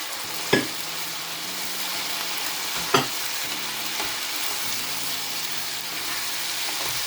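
Cabbage drops into a pan of frying chicken, a steady close sizzle punctuated by two sharp knocks and a few softer clatters, with no voices.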